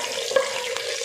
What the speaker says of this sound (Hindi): तो यहाँ पर जीरा जो है हमारा फ्राई हो चुका है